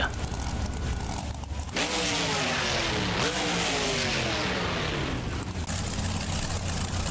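Monster truck engine in BeamNG Drive, a Monster Jam event at Bristol Motor Speedway, revs loudly and steadily with rising and falling pitch sweeps, a continuous dense roar that fills the whole stretch.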